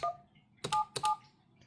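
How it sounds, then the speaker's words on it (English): Two short DTMF dialing tones from a 3CX VoIP desk phone sound one after the other, loud, clear and close, separated by a brief pause, with no talking. "So I'm gonna dial the kitchen phone."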